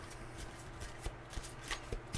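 A deck of cards is shuffled close by, giving a soft, continuous riffling rustle with a few sharper flicks near the end.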